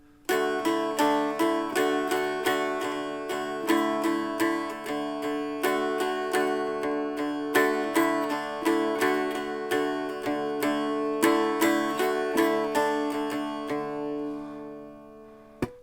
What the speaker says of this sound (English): The really folk style is to play everything on the melody string, and the other 2 strings are just drones